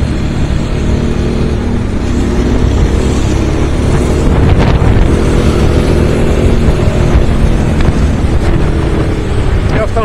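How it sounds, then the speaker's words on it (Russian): A Regulmoto Alien Monster 300 motorcycle engine roars steadily while riding, loud and close, mixed with rushing wind noise. "Ну как, шумит. Серьезный мотоцикл."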